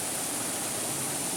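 Water pouring steadily from stone spouts at a seven-spout waterhole in Khotang, a constant even rush with no breaks and no talk.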